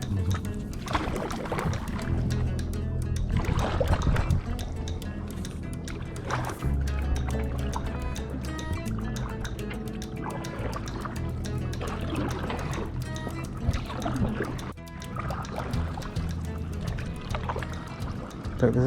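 Small boat paddled out on a calm day beside trees, with steady water sloshing and dipping throughout, near and continuous, alongside broadband outdoor noise and occasional voices.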